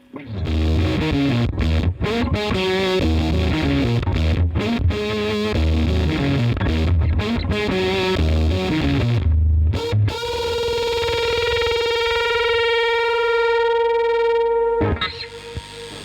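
Fuzzy, distorted electric guitar through a fuzz pedal with bass contour turned all the way up, playing a busy riff, then a long sustained chord ringing out before a short final strum.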